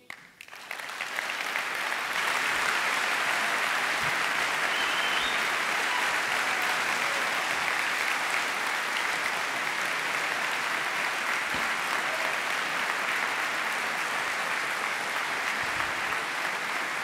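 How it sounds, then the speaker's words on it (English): A conference audience claps continuously, a dense, loud wash of applause that swells over the first two seconds and then holds steady to the end. "The applause is yours."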